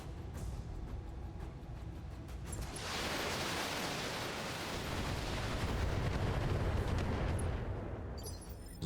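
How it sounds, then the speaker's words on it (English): LRM-30 missile barrage in the video game Battletech, a sustained roaring wash of launches and explosions that swells from about the third second and rumbles on loudly, with no talk over it. "It's a very good LRM-30 barrage given the stats."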